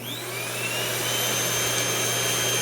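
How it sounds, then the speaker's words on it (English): Vacuum cleaner powered from a 300-watt Egretech Plume 300 portable power station inverter, spinning up into a steady loud whine and roar with a low hum underneath, close and continuous with no talking. "I'm going to turn on the vacuum"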